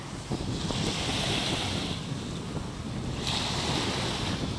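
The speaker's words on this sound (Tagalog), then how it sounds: "Sarap yung hampas ng hangin," Strong wind buffets the microphone at a beach near Atlantis in Dubai, mixed with the steady wash of surf, a loud continuous roar with two brighter gusts and no voices.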